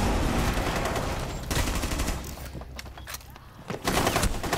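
Sustained automatic gunfire from a video game, dense and loud bursts with a short lull in the middle before heavy firing resumes.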